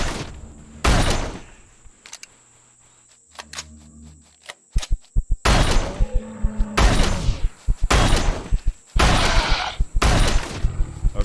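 Shotgun blasts in the game Empyrion Galactic Survival fire at creatures inside a cave. The sharp, loud booms come at irregular intervals, a few isolated at first and then more closely spaced, mixed with thuds and crashes.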